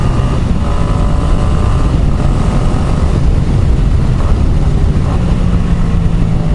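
A Yamaha MT-07 with a ZARD full exhaust carrying two riders passes at about 50 km/h in a set gear through a tunnel, a loud, steady engine drone with rumble filling the whole stretch.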